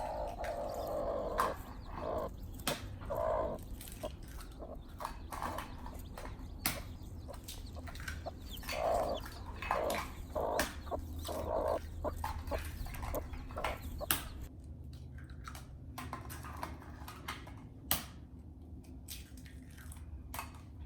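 Hens cluck softly and intermittently in the background, with occasional sharp clinks and knocks from nearby kitchen handling.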